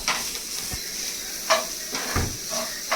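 Liver fry sizzles steadily in a hot pan with a continuous hiss, broken by a few scraping stirs and light clinks of utensil on metal, close up and without talking.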